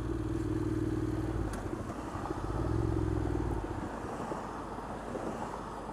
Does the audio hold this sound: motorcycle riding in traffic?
yes